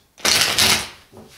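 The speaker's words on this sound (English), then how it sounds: "Let's shuffle it." A quick riffle of tarot cards being shuffled, two crisp bursts of rapid flapping followed by a soft settling sound.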